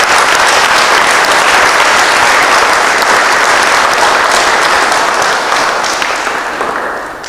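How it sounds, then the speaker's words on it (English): A large audience at a foundation's first scholarship awards ceremony bursts into loud, dense, sustained applause that tapers slightly toward the end, with no speech over it. "Please give them a big round of applause."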